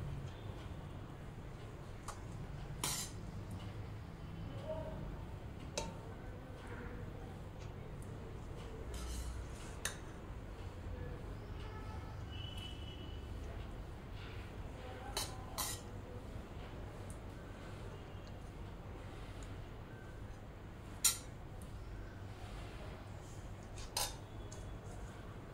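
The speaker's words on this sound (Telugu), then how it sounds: "మళ్ళీ ఒక లేయర్ కింద రైస్ వేసుకోండి." A spoon scrapes and taps against a pot as rice is layered into a prawn dum biryani, giving sparse, quiet metallic clinks spread irregularly over a low kitchen background.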